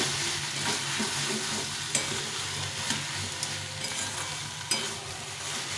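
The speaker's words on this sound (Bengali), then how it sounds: "একদম ভাজা ভাজা করে নামিয়ে দিই" Fish fries in oil until crisp, a low steady sizzle broken by occasional sharp scrapes and taps as it is turned in the pan, fairly quiet and close, with no voices.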